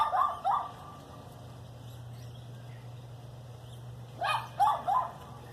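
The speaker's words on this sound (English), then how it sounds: "I'm sorry about the dog. It's not mine." A neighbor's dog barks outdoors beside a local pond, giving a pair of short yelps, then a long pause over steady low background hum, then a quick burst of three more barks at moderate distance.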